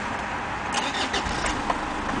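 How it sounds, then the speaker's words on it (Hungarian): A Mazda 323F with a 101-horsepower engine and 136,000 km on it cranks and catches, then runs steadily in a close, loud, continuous engine sound with no talking. "nézzük, hogy hogy indul az autó"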